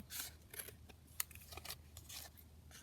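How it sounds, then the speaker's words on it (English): Scissors snip through the edge of a handmade giant paperclip pocket in several quick, close cuts, each a crisp broadband crunch separated by brief pauses, with no voices. "I'm just going to trim down the edge as well."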